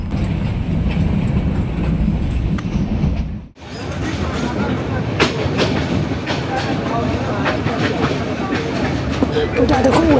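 A Shan train on a century-old railway line climbs through hill country toward Taunggyi, its carriages rumbling and rattling steadily up close, with a brief drop in the noise partway through before the running roar returns.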